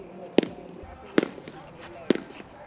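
Bats crack against softballs at an intramural college home run derby on a practice field, three sharp evenly spaced hits about a second apart, heard outdoors under ongoing narration.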